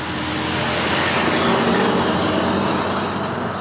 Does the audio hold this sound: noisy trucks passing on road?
yes